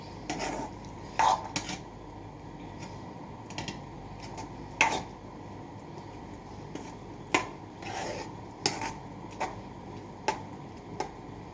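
A spoon stirs beetroot curry with curd in a pan, producing soft scraping and occasional sharp metallic clinks against the vessel over a low background hiss, close and fairly quiet, with no voices.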